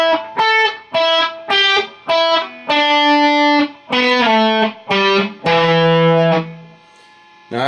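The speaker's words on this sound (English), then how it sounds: "So this part happens another 4 times." A distorted electric guitar plays an intro riff, loud and close, in short repeated choppy phrases with a few longer held notes, ending on a sustained note that fades.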